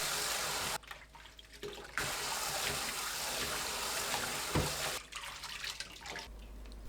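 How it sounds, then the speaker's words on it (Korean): Small octopus rinsed repeatedly under running tap water: a loud, steady stream of water with breaks where the flow shifts or stops, plus splashing and handling noises nearby, with no speech. "깨끗한 물이 나올 때까지 여러 번 헹궈주세요."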